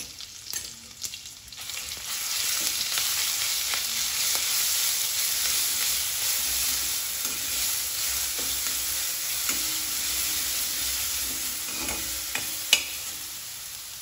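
Curry leaves and ground paste hit crackling mustard oil in a pan, giving a sudden loud sizzle that holds steady for several seconds, with scattered pops and occasional stirring scrapes, close by.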